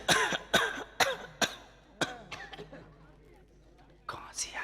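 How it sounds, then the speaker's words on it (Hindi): A man coughs several times in sharp, close bursts, then clears his throat, and a short whispered voice follows near the end. "खांसी आई खांसी"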